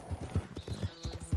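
Horse hooves clip-clop in the Red Dead Redemption 2 video game, a quick, uneven run of close, soft thuds in rhythmic pairs across a short stretch.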